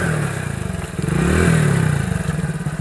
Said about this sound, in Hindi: देखिए ये भी बाइक निकाल रहे हैं, किस तरह से कितना प्रॉब्लम हो रहा है देखिए